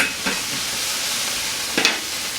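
Shredded cabbage stir-frying in a hot pan gives a steady, close sizzle with soft scraping stir strokes rising briefly near the start and again toward the end.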